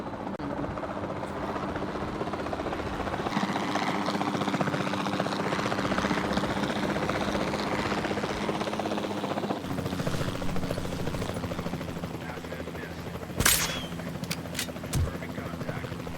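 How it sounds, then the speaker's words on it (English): Capture team helicopter in the Jurassic World Evolution 2 video game, a steady whirring rotor and engine drone that holds loud and even throughout, with a few brief sharp game effects near the end. "Then the sensible thing is to take a capture team helicopter."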